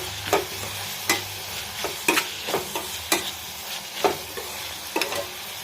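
Onions, salt and curry leaves sautéing in a pan for shark puttu: a spatula scrapes the pan in a regular rhythm of sharp strokes about once a second over a low, steady sizzle, close up, with no voices.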